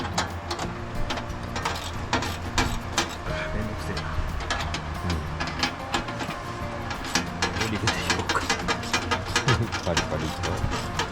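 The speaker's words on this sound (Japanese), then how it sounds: "M5 のタップでネジを切っています。" An M5 tap cuts screw threads into metal, giving a dense run of close clicks, scrapes and ratcheting crackles that continues steadily throughout.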